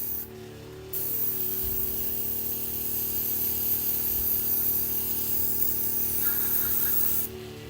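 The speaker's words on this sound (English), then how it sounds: "Test spray." A can of yellow spray paint fires one sustained test spray for about six seconds, a loud steady hiss that starts and stops abruptly, used for painting Warhammer miniatures.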